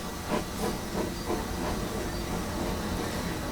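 A GWR Grange steam locomotive in Train Simulator, a steady soft hiss of steam with faint rhythmic puffs, low and continuous with no voices.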